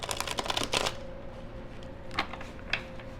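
Tarot cards riffled and shuffled close by in a few quick bursts, followed by softer taps and a couple of sharper snaps, no talking.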